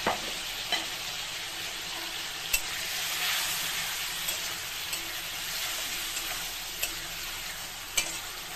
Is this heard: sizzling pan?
yes